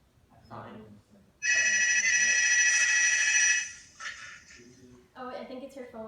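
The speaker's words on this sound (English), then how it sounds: "I think it's her phone ringing" A phone rings loudly and steadily for about two seconds with a bright electronic tone, cutting in between stretches of a person talking before and after it.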